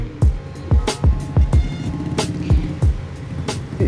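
Congested city road in light drizzle, with low vehicle rumble and a steady series of dull, evenly spaced thumps recurring roughly every third of a second throughout.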